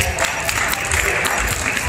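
A loud round of applause from a comedy show audience, dense steady clapping filling the whole stretch with faint crowd noise mixed in.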